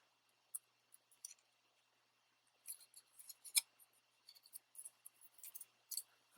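Scissors cut a paper strip for a papercraft project: crisp snips start sparse, then come in quick clustered runs of close, quiet cuts with no voice.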